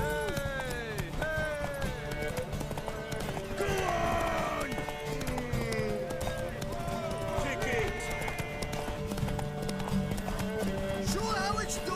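Rapid rhythmic clip-clop of galloping horse hooves in The Witcher 3: Wild Hunt runs continuously beneath voices and music, with occasional horse whinnies layered on top.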